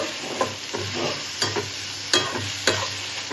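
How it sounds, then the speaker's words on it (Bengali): Garlic frying in hot oil in a pan and being stirred: a loud, continuous sizzle broken by several sharp scrapes and knocks of the spoon against the pan, with no voices. "আমি সুন্দর করে ভাজা ভাজা করে তারপরে একে একে সব কিছু দেব"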